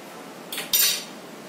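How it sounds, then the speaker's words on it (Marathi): A metal fork taps against boiled eggs in a dish, making two quick, close clinks in a quiet room. "हे याला असं काट्याच्या चमच्याने होल करून घ्यायचे थोडे थोडे"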